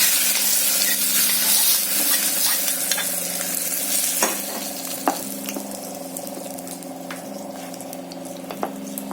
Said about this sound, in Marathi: आपण जे तडका बनवला तो आपल्या चटणीमध्ये घालून घेतो